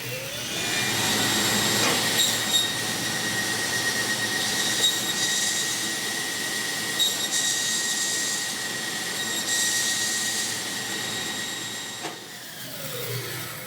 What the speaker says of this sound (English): So now I'm ready to start the saw.